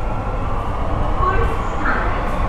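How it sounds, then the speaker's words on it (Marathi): Steady low rumble and whoosh of a fully air-conditioned underground metro train running in Mumbai, continuous and fairly loud, with a voice speaking faintly over it. "तर आता आपण या मेट्रोमधून प्रवास करतोय."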